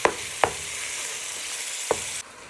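Beef mince sizzles in a pan for a Chinese beef stir fry, a continuous bright hiss punctuated by three sharp utensil scrapes as it is broken apart, close up with no voices.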